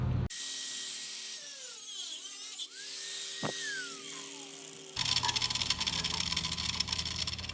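Sustained high-pitched grinding on the rusty frame metal of a Volkswagen bus, whining steadily with pitch sweeps and a brief dip, then turning harsher and rougher in the last few seconds; close and loud, with no talking.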